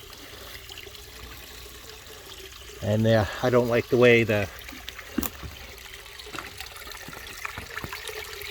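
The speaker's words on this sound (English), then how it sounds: "it's just flowing in here and out back into the pond" Water trickles and flows steadily into a backyard fish pond, a low continuous babble beneath a man's brief speech.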